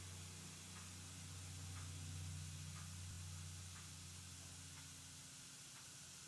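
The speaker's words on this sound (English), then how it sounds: "Still sizzling." Fizzing toy surprise tablet dissolving in water, a soft continuous hiss with faint low hum beneath, quiet and close, with a brief murmured voice.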